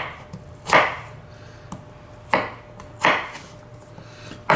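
Knife chopping potato slices into cubes on a board: four separate firm thuds spaced about a second apart, close and fairly loud, with no talking.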